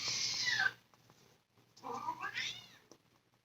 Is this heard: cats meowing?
yes